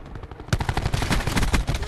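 Rapid gunfire in a multiplayer shooter video game, a fast continuous stream of close shots after a short quieter stretch, loud and steady with no speech over it.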